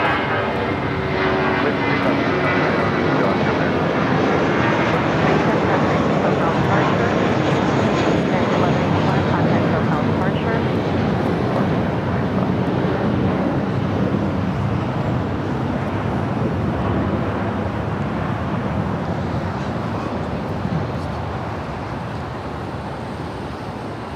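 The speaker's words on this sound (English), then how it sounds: "That flight heading to Cabo, United Airlines flight 1185. It's an A320." A United Airlines Airbus A320 airliner at LAX gives a loud, sustained jet engine roar that holds steady and then slowly eases near the end, with a voice talking over it.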